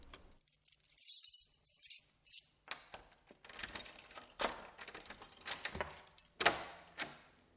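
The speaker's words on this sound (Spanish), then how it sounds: "El sonido de cuando estamos buscando las llaves para abrir la puerta de algún lugar." A bunch of keys jingles and clinks in several irregular shakes, close up and fairly quiet, with no voices.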